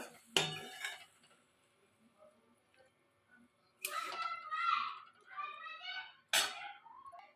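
Cooked okra and shrimp curry is scooped into a serving dish with metal utensils: three separate bursts of clinking and scraping against the dish, each followed by a quieter stretch, with faint voices in between.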